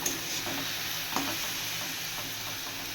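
Raw banana and potato pieces, seasoned with turmeric and salt, fry in a pan, giving a soft, steady sizzle with occasional stirring scrapes and light clinks, fairly quiet and with no voices.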